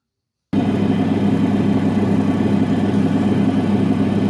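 Lapidary grinding wheel taking the skin off an opal belemnite fossil, a loud steady motor drone with a gritty grinding rumble that starts abruptly after a short silence and runs continuously.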